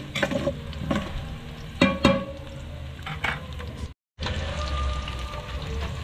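Onion and chili sauté in a pan for spicy adobo, a crackling sizzle broken by several sharp stirring scrapes and clacks, with a brief dropout before the frying resumes steadily.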